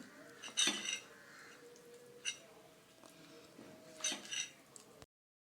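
Cut brinjal being tossed with masala in a pan, a few close clinks and scrapes of a spoon against metal with soft squishy shuffling between, quiet and sparse.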